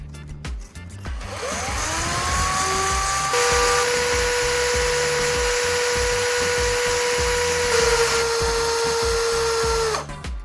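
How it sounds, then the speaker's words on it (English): Sandpaper held against a spinning battery core, driven by a power tool, makes a steady high whirring grind with a whining tone, running for about ten seconds with no talk. "I'll hold the sandpaper steady and gently press it against the spinning core."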